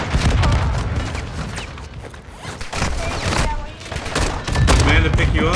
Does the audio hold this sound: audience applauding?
no